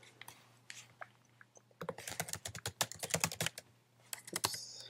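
Rapid keystrokes on a computer keyboard while entering login details, a few light taps at first, then a dense, fast clatter close to the microphone.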